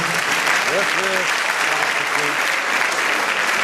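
An audience claps steadily and loudly throughout, a sustained wash of applause in a hall with a voice briefly heard over it.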